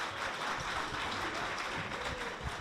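A conference audience at a talk on cold and cryotherapy applauds the speakers, producing a steady, even wash of many hands clapping, fairly soft and somewhat distant, with no talk over it.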